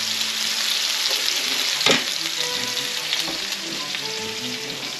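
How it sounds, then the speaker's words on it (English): Fish searing in hot oil in a pan, a close, even, crackling sizzle that carries on throughout, with one brief louder spatter early and small pops scattered over it. "So we'll leave that for a couple minutes and let that sear"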